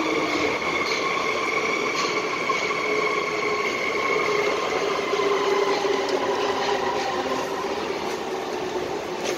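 A Budapest M3 line metro train runs with a loud, steady roar and sustained whining wheel and motor tones that drift slightly in pitch throughout.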